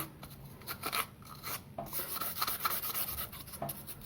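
Wet sandpaper rubs back and forth over a tap water filter in quick, irregular rasping strokes, close and fairly quiet, with no talking.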